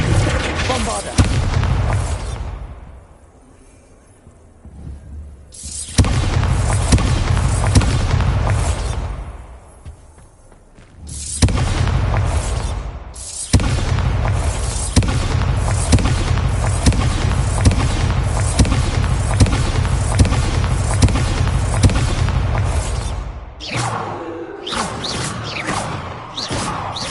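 Booming spell explosions from the Hogwarts Legacy video game, the Bombarda blast among a string of casts, burst loudly in bursts with short quiet gaps, layered with crashes and rumbling impacts.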